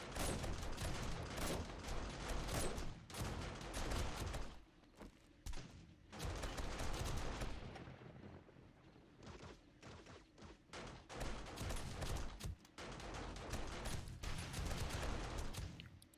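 Sniper rifle fire in a video game defends a horde base, heard as dense, loud bursts of shots and booms that go on almost without a break, with brief quieter gaps.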